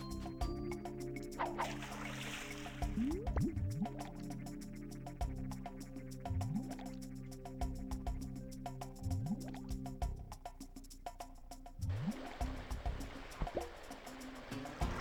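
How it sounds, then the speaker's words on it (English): Flowing water in Tonic Trouble 64 trickles and drips softly, punctuated by splashy bursts and game sounds, with brighter gushing stretches near the start and end. "Makes absolutely no sense why there's like water flowing over there."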